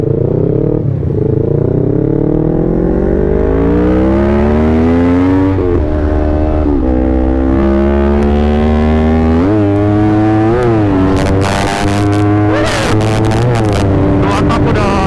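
A two-stroke motorcycle engine revs at half throttle close by, pitch climbing and falling in repeated loud surges with rattly crackle toward the end.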